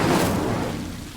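Incendio fire spell cast in Hogwarts Legacy, a short loud whooshing burst of flame that fades over about a second, heard alone.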